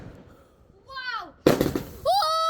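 A bonfire night firework bursts with a sharp, loud crack partway through, and whistling rocket tones rise just before and just after it. Voices can be heard in the background.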